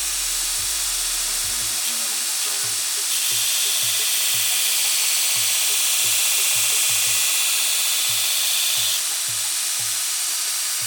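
A power sharpening machine runs steadily at a knife factory, a loud continuous whine and hiss with a regular low rhythmic thumping underneath as the blade is worked against it.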